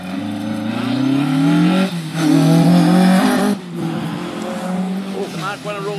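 A Mark II rally car races past on a stage, engine roaring close and loud with rising revs and tyre noise, then the sound fades briefly before another surge; a commentator talks over it.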